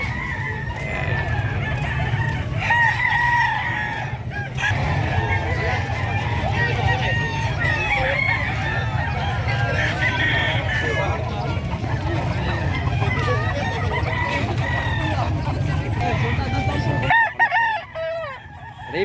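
Roosters crow repeatedly and chickens cluck throughout a busy livestock market in San Carlos City, with people talking and bargaining close by underneath the birds.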